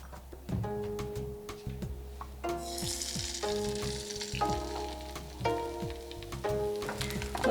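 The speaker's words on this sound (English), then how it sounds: "I'm going to make the egg crepes by pan frying the egg whites and the egg yolk in a separate non-stick pan." Egg whites and yolk pan frying in a non-stick pan, a steady close sizzle and crackle running throughout with occasional light scraping and stirring.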